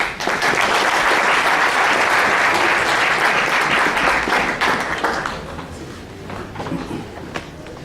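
Sustained audience applause welcoming a lecture speaker at a talk on indigenous discourse, loud and dense for about five seconds before tapering into scattered claps and fading.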